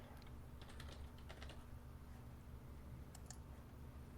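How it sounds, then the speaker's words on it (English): Typing on a computer keyboard, faint and somewhat distant, with light irregular clusters of key clicks over a steady low hum and background noise. "I was typing away at something"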